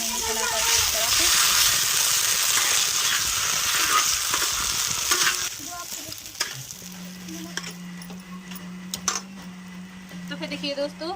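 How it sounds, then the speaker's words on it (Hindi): Chutney being stirred into an aloo tikki potato mixture, a loud wet squelching and scraping at first that drops off partway, followed by quieter clinks and a steady low hum, with a voice talking. "तो इस तरह से डालेंगे हम चटनी को आलू टिक्की में मिक्स करेंगे चलाकर इस तरह से"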